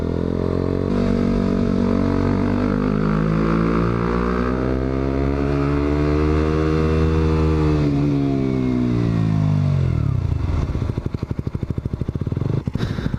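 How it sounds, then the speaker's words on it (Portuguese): A Yamaha MT-07 motorcycle fitted with an Akrapovic exhaust on a test ride, its engine loud and close, the pitch rising and falling steadily through gears before settling into a choppy, rumbling idle near the end. "Vamos lá fazer um test drivezinho aqui à moto."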